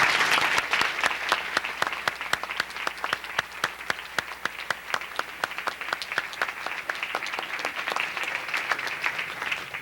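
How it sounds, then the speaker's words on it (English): A luncheon audience at a university alumni award ceremony gives a steady round of applause, with many individual claps rising clearly and evenly out of the crowd for the full stretch, close and fairly loud, with no talking. "One more round of applause for all of them, please."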